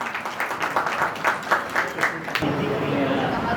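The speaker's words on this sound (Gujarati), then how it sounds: "જોરદાર તાળીઓથી વધાવી મીરા માતાજી" A crowd at a Vishwakarma Dodiya community get-together in Chotila breaks into rhythmic applause, with distinct clap bursts giving way to a steadier, denser wash of clapping toward the end.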